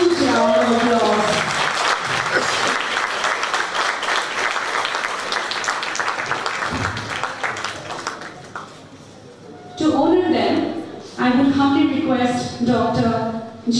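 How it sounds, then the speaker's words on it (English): Audience at a silver jubilee celebration breaks into sustained applause, a dense clatter of many hands lasting several seconds before thinning, then an amplified voice speaks over the hall. "A huge round of applause."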